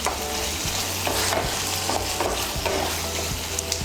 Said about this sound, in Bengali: ডিমটাকে ভালো করে মিশিয়ে নেব